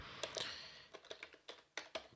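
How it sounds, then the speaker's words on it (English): Fingers type on a computer keyboard, a quick irregular run of soft keystroke clicks, close but quiet, with no voices. "I just prefer to type it out."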